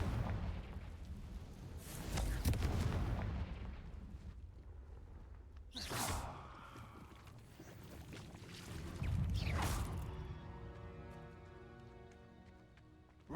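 Fire blast spells from the Hogwarts Legacy video game explode in several booming bursts, each a heavy whoosh and crackling impact, separated by quieter rumbling stretches and a ringing shimmer at the end.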